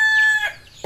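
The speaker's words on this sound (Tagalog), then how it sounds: "Mga alagang manok." A farmyard rooster among backyard chickens crows once, close and loud, a drawn-out strained call that breaks off sharply, followed by a short cluck.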